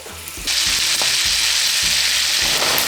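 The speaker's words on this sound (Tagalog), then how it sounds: "ilalagay ko na yung natira pa na butter. Yan, pabayaan natin yung mag-melt." Butter dropped into a hot pan alongside a steak on a stovetop bursts into a loud, close sizzle about half a second in and keeps frying steadily, punctuated by a few soft clunks from the pan.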